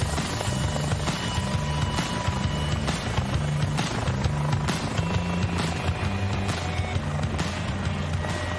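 Steady engine and propeller drone of an aircraft in the Microsoft Flight Simulator video game, continuous and fairly loud throughout with a rhythmic low-end pulse.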